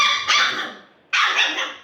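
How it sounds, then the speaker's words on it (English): Young AussieDoodle puppy at four weeks old, kept in a puppy box, gives two loud close barks separated by a short pause, with no talking. "they're just learning how to bark"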